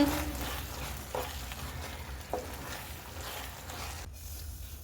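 Potato masala being stirred with salt in a pan, a steady sizzle with a few scraping stir strokes, moderately close, with no voices.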